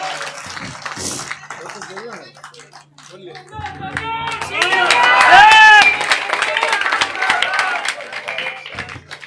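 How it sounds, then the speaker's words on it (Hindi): A crowd at a village political rally in Gannaur claps loudly. The clapping swells in the middle with scattered shouts and a voice over it, then tapers off. "दिग्विजय फोगाट के लिए एक बार जोरदार तालियां दोबारा से हो जाएं भाई"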